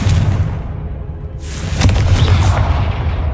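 A Confringo spell explosion in the video game Hogwarts Legacy: a deep, loud boom bursts out and is followed by a rumbling, crackling tail, with no talking.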